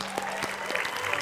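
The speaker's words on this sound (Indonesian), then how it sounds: "Tepuk tangan dong." Studio audience on an Indonesian Zumba fitness talk show applauding an honoree, a steady wash of clapping with a few sharper claps, moderately quiet and brief.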